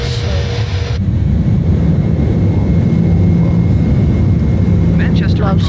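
Airbus A310 jet engines in Microsoft Flight Simulator give a loud, steady roar that holds throughout, with a brief higher tone at the very start.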